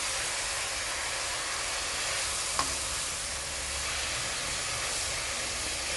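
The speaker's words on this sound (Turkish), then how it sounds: "Biraz karıştırıyorum." Steady broadband sizzle of zucchini frying in a pot, with faint stirring scrapes underneath, continuous and close throughout.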